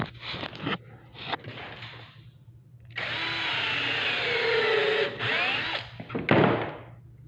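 A power drill drives screws into the frame of a 6 ft door panel, giving short bursts and then a long steady whirring run with a few knocks and thunks around it.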